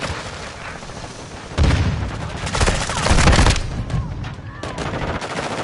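Gunfire and grenade explosions in the Modern Warfare 2 video game: dense bursts of automatic fire with heavy booms, loud and continuous, building in the middle and tapering off toward the end.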